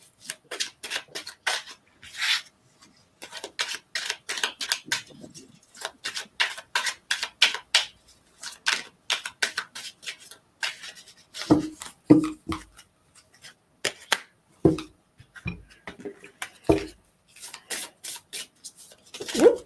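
Playing cards are shuffled close by in repeated riffles and bridges, quick bursts of rapid flicking and soft slaps separated by short pauses.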